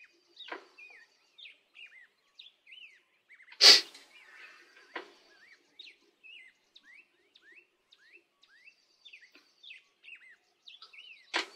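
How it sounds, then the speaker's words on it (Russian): One loud, sharp human sneeze from a painter working with palette knife and paint fumes, standing out clearly over steady birds chirping and twittering throughout. "Я чихаю все же."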